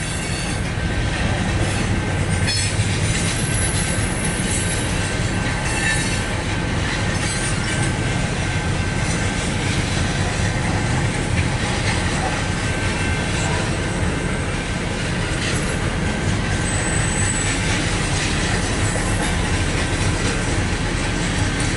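Eastbound mixed freight train led by CN and CSX locomotives passing through Battle Creek, Michigan, a continuous loud rumble of rolling cars with clattering wheels and occasional high squeals, heard close for the whole stretch.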